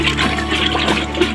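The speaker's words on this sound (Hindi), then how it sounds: "अब में पानी डाल दे है पानी डाल दे तब अच्छे से निकलते।" Water pouring steadily into churned buttermilk during home butter-making, a continuous close splashing trickle with a low tonal hum underneath.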